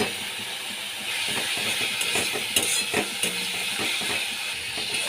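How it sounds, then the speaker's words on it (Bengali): Potatoes sizzle and fry with Kashmiri chilli powder and spices in a pan, a steady close hiss broken by scraping and clattering stirring strokes. "আলুগুলোকে এর মধ্যে দিয়ে আমি কষিয়ে দিচ্ছি"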